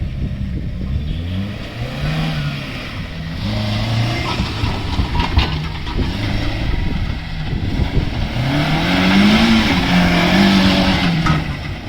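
A 2009 Maruti Gypsy 4x4 being driven, its engine note rising and falling through repeated revs and gear changes, steady and fairly close throughout with no voices.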